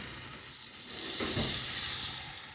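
Ground onion-tomato paste sizzles and hisses in a hot pan while cooking for a bitter gourd tamarind stew, a steady frying hiss that swells briefly louder partway through.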